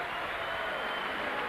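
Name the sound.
Salford City Reds fans applauding an injured player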